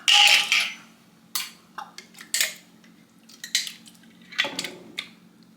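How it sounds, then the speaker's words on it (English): Glass jars of homegrown plums are handled and opened, producing a scatter of faint clinks, taps and scrapes that stay intermittent and quiet. One brighter rattle opens the sequence and another follows near the end, with low room hum underneath. "we're going to open our plums that are in peach jars, because these are homegrown plums"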